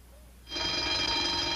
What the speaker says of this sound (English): That's the burglar alarm.